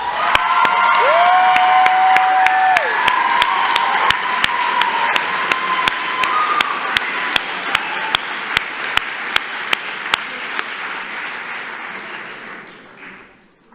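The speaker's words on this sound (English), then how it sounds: "Let's give all of our graduates a massive round of applause, everybody" A graduation ceremony audience applauds and cheers for graduates, a loud sustained roar of clapping with a few whoops, punctuated by sharp regular clicks, before fading out at the end.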